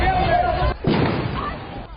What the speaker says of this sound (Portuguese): Chegaram a utilizar bomba de efeito moral.